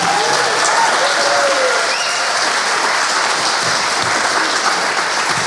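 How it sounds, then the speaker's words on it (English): An audience at a storytelling talk event breaks into a sustained round of clapping, dense and even for several seconds, with faint voices mixed in. "Can we give another round of applause?"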